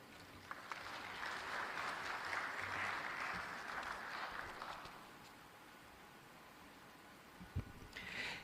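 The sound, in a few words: audience applause at the coffee summit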